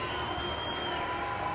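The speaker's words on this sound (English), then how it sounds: "as the fans from Castle Rock are cheering" Castle Rock fans cheer and shout as a steady crowd roar during a 2022 CHSAA high school varsity ice hockey game between Valor Christian and Castle View, a dense wall of voices throughout with no clear pauses.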